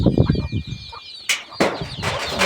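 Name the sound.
hen clucking with her chicks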